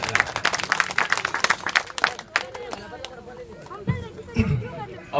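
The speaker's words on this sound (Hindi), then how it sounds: "एक बार करतल ध्वनि के साथ सभी लोग ताली बजाइए।" An audience claps briskly during a garlanding honour ceremony at a memorial feast gathering, then the clapping thins into crowd chatter and nearby voices.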